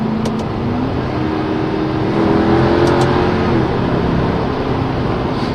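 A Mercedes CLK63 AMG pulls hard under acceleration in manual mode, its engine note climbing steadily and loud with a quick gear change partway through, heard from inside the car.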